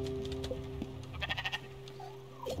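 A sheep bleats a few times in the video game Spiritfarer over a steady droning background, with short wavering calls in the middle and a final bleat near the end.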